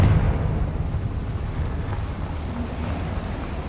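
A Confringo fire spell bursts in Hogwarts Legacy on PS5, a loud low rumbling blast at the start that rolls into a sustained deep roar and crackle for several seconds.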